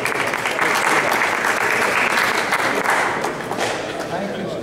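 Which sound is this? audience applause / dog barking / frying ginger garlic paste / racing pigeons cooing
audience applause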